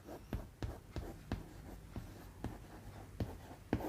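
Chalk taps and scrapes on a board during a probability lesson, a steady run of sharp strokes about every half second over a noisy classroom background.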